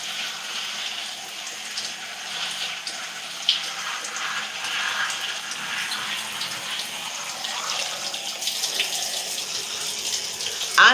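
A steady stream of tap water runs continuously while a section of natural curly hair is rinsed, a close, even gush with slight splashing variations and no talking.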